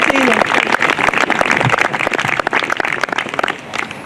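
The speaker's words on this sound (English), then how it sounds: "Give her a big round of applause." A brass band audience keeps clapping for its smallest cornet player in a youth band of 8 to 18 year olds, a steady crackling wash that thins near the end, with voices mixed in.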